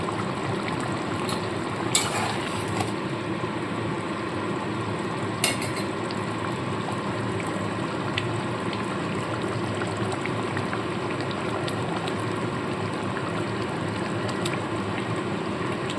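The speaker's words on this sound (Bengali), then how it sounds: "দেখতেই পাচ্ছেন ঝোলটা ফুটে উঠেছে" Fish curry gravy bubbles in a pot with a steady, even simmering hiss, broken by a couple of faint clicks.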